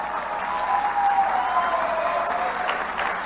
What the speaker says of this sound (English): You can clap now if you want.